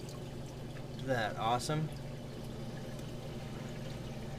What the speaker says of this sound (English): My auto top off just kicked in for this video.